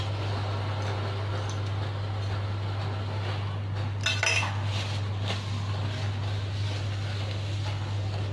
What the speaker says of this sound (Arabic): وغادي نخلطهم مزيان بواحد الفوي يعني حتى يذوب لينا هذاك الشوكولات ديالنا